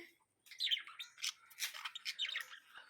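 Small bird calling near a nest with a chick, a series of short bright chirps and squawks in quick irregular bursts, moderately close and clear with no talk over them.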